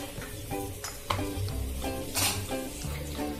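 A methi paratha cooks on a hot tawa, giving a steady close frying sizzle with faint clinks of utensils throughout.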